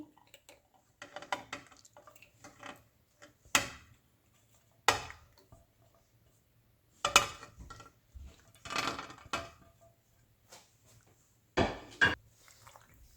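Boiled pasta goes into a pan of white sauce and is mixed, with scattered clinks and scrapes of a spoon against the pan coming in short, sharp bursts separated by near silence.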